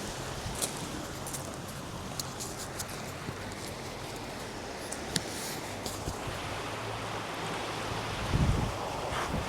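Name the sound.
stream water flowing behind a Cotswolds cafe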